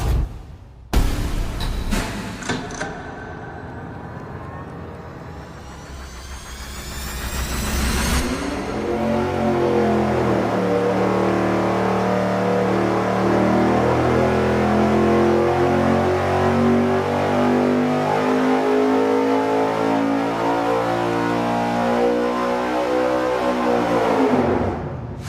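An intercooled engine on a dyno fitted with a 90-millimeter throttle body, starting with sharp cranking bursts, then revving up and holding a loud, steady roar for a long stretch before cutting off near the end.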